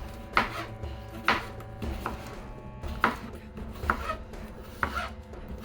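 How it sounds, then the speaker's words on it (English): A knife slices an English cucumber into rounds with the skin on, six crisp, evenly spaced chops against a cutting board, close and fairly quiet with no talking. "We have our English cucumber here. We're going to take the tip off of that."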